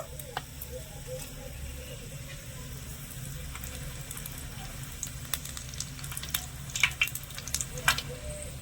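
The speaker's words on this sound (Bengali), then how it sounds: "এবারে দুটো শুকনো লঙ্কা নিয়েছি একটু ফাটিয়ে দিয়ে দেবো" Dried red chillies crackle and fry in hot oil after peanuts, a steady low sizzle with scattered sharp pops that grow denser toward the end, close and fairly quiet.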